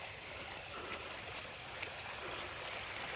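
A hillside creek runs with rainwater, giving a steady, close rushing and trickling wash of water that stays even and unbroken throughout, with no voices.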